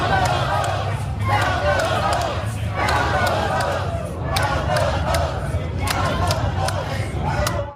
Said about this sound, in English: Like here's a crowd of people in Arizona.